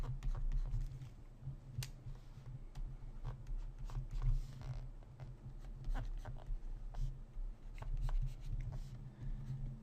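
A pen draws a stick-figure arm on paper, giving steady, close scratching and rubbing strokes with brief sharper ticks, continuous throughout and free of talk.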